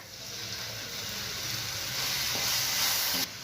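Onions and ground masala fry in a pan for crab kuzhambu, a steady loud sizzle and hiss of hot oil that builds slightly, then cuts off sharply near the end.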